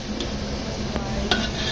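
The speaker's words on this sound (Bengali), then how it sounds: "এখন পেঁপে আর আলুটা ভেজে নিচ্ছে" Papaya and potato pieces frying in a pan, heard as a steady low sizzle with a few light scrapes and clinks of a spoon against the pan over the short stretch.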